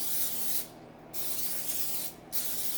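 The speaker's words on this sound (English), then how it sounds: "We're going to coat it really good with our baking spray" Cooking spray hisses onto a 9 by 13 inch baking dish in two long, loud bursts separated by brief pauses, heard up close with no talking.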